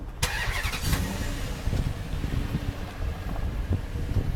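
A car being started and driven a short way outdoors, its low engine rumble steady and close, with wind buffeting the microphone throughout.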